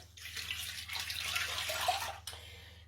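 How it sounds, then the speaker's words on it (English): Cold water running from a tap into a cooking pot for a Christmas ham, a steady rushing splash that rises and fills for about two seconds, then cuts off abruptly, over a faint low hum. "So what I'm going to do is just fill this with cold water."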